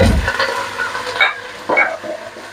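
Minced keema and ginger fry in a hot pan, giving a loud, close sizzle with stirring and scraping of the spatula throughout the short stretch.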